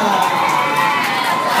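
A lively crowd at an evening gathering cheers and shouts together, a dense, continuous roar of voices with some high-pitched whoops, loud and close for a brief moment.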